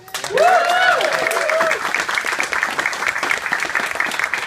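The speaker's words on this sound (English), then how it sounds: "can we get a round of applause for our charity" Audience applause for a charity at a live panel show at Midwest Furfest 2015, a steady wash of clapping; voices and a cheer-like whoop rise over it at the start before the clapping settles into a continuous, fairly loud patter.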